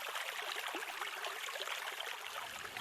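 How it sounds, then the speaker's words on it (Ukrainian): A spring stream babbles and trickles steadily nearby in a forest, a continuous bright wash of running water with no breaks and no voices. "Десь недалеко дзвенить весняний струмочок."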